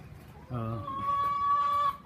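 A couple of short clucks from a nearby chicken in a chicken run, then a sustained tonal call, over a soft background.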